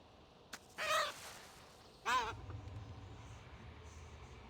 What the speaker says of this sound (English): That bird is noisy.